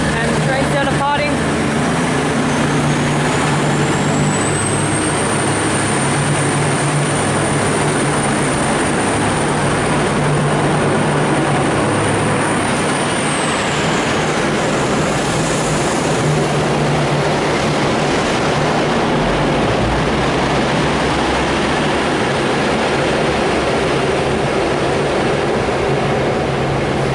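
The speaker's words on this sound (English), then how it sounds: "And the train's now departing." A six-car Melbourne train departing Clayton station, its rear three cars old VLocity sets, heard as a loud, close, steady rumble with a high whine that rises, holds, then fades.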